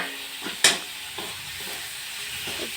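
Dried Bombay duck fish with tomato and a little chilli powder frying in a pan, a soft steady sizzle with a few scraping stirs and one sharp clatter near the start, heard close with no talk.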